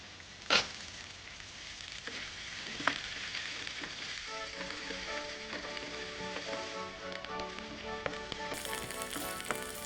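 Capsicum sautéing in a pan gives a steady, moderate sizzle throughout, with a couple of sharp taps early on and stirring scrapes woven into the crackle.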